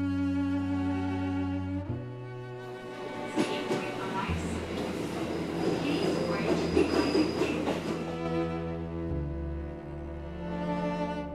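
A train rolls into a small rural station in Japan with a deep rumble, rattling wheels and squealing, rising to a clattering peak before easing off, with horn-like tones at the start and end.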